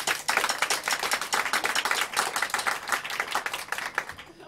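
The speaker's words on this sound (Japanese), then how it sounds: "じゃあガッキーの方がかっこよかったって人拍手。" A party audience claps to vote, a lively, uneven burst of many hands close by with distinct individual claps popping out of the crowd sound, lasting a few seconds.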